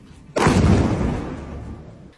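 A single loud, sudden blast erupts and then rumbles away over about two seconds, deep and heavy.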